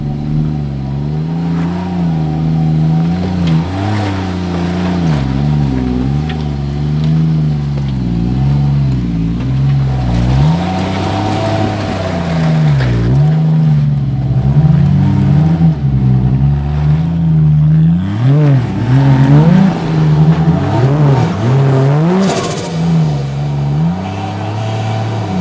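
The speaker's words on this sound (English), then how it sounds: "I'm gonna try and drive the same line Jono did." 4WD engine revving hard as the vehicle climbs a rocky step on an off-road track, loud and near, with the pitch rising and falling through repeated throttle surges.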